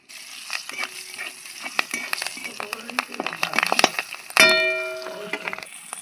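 Nigella seeds crackle and spit as they hit hot oil in a pan just used for frying eggplant, a dense run of close, sharp pops followed by a sudden louder burst of sizzling near the end.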